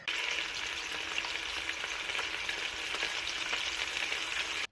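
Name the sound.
meatballs searing in a pan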